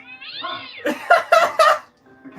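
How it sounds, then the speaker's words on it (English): A cat lets out several loud, drawn-out meows in quick succession, close by, with a brief quiet pause before a softer final cry. "only to get jump scared by a cat"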